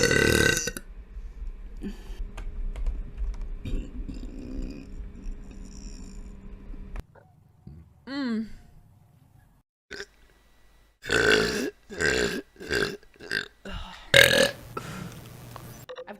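A streamer belches several times, with a long drawn-out burp early on and a rapid series of short, loud burps near the end, recorded close to the microphone.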